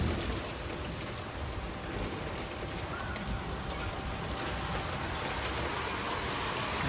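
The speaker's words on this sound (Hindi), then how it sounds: "देखो बारिश कितनी तेज पड़ रही है" Heavy rain pours down in a steady, dense hiss on outdoor surfaces, loud and constant throughout, with no talking.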